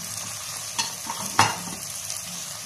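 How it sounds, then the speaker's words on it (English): Chopped tomato fries in ghee with a soft, steady sizzle close by, broken by two distinct stirring scrapes of a utensil against the pan, without any talk. "So fry it until it is little bit of soft."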